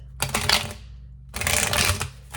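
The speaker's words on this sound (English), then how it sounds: "These do not want to shuffle very well at all." Two bursts of slightly sticky tarot cards being riffled and shuffled close by, crisp papery flutters separated by a short silence.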